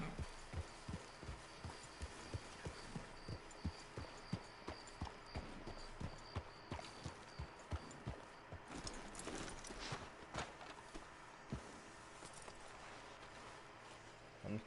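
Horse hooves walking in the video game Red Dead Redemption 2, a steady, rhythmic clip-clop of many even hoofbeats, fairly close and clear, under game background sound and some talk.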